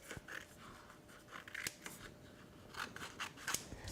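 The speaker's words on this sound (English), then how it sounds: "Let's trim this off and see if our pressure was good." Scissors make repeated crisp snips as they trim reflective adhesive vinyl cut on a Silhouette Cameo 4, the cuts coming in short irregular bursts, close and clear with no talking.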